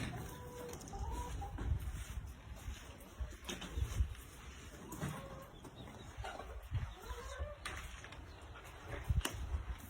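Chickens cluck and murmur intermittently nearby, with scattered soft calls over a quiet background.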